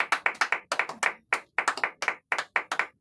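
A church congregation claps in praise of the Lord during a deliverance service, with loud, fast rhythmic bursts of hand claps in short phrases separated by brief pauses, close and without speech.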